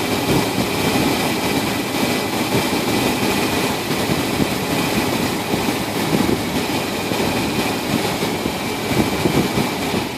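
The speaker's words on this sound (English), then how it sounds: "you can hear the engine" Car engine running steadily while its crank sensor is tested, a continuous loud droning rumble with no break, heard alone without any talk.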